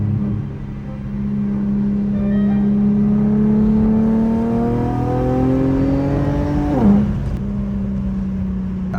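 Infiniti G37 with an ISR single exit exhaust accelerating, a loud raspy engine note climbing steadily in pitch through the gears, then dropping sharply at a shift and settling back to a lower drone.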